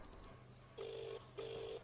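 A telephone rings twice, two steady electronic tones with a short gap between them, heard faintly over a low background hum, no talking.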